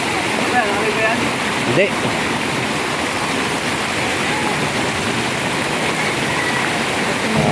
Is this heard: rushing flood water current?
yes